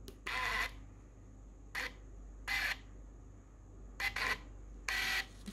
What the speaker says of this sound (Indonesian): Jadi kita coba lagi mesin karcisnya di PCB yang sama.